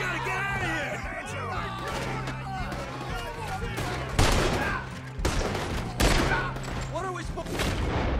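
Rapid gunfire in the Red Dead Redemption 2 video game, sharp volleys and sustained bursts cracking through shouting voices and a tonal musical drone, with louder blasts toward the end.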